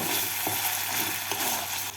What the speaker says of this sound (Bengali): কিশমিশটাকে তেলের মধ্যে নাড়াচাড়া করে নেব